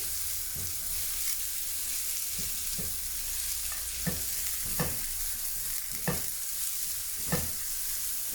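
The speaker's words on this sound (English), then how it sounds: "Alright, stir fry first." Onions stir-frying in a hot pan give a steady close sizzle, broken by a handful of sharp scraping clicks as a utensil stirs them at irregular intervals.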